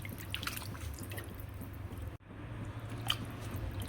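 Raw chicken is rinsed by hand in salt water, giving soft, close drips, splashes and wet squishing sounds, with one brief dropout partway through.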